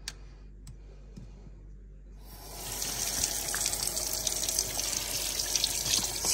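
Water from a kitchen mixer tap fitted with an attachment starts flowing after a couple of seconds of quiet clicks, then runs as a steady, bright, hissing stream close by.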